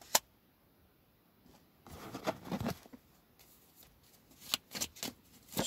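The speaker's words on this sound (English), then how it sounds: "Shuffle." Tarot cards are shuffled in quick riffling bursts, close and crisp, with a sharp snap at the start and several clustered flutters separated by short pauses.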